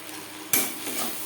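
Spices, salt, turmeric, onion and tomato being stirred together in a pan for a Bengali prawn malai curry, with a sudden scrape and clatter of the spoon against the pan followed by a soft ongoing sizzle.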